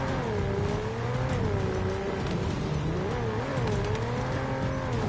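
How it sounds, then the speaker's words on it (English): A racing car in the 007 First Light video game drives hard: a loud, steady engine drone climbs and dips in pitch through corners, with faint tire noise beneath. "What a great set of wheels."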